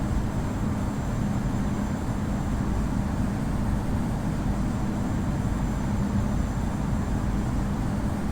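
An airliner taking off in the game Infinite Flight, a steady, loud, broadband jet engine roar with deep rumble holding evenly throughout.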